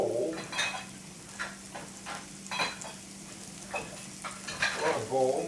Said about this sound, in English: Now look at the onion. They're going to saute.